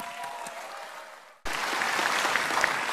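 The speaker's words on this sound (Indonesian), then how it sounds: "Silahkan tepuk tangan." Audience applause at the 9 June 2014 Indonesian presidential and vice-presidential candidates' debate, breaking out suddenly after a quiet stretch and holding steady and dense to the end.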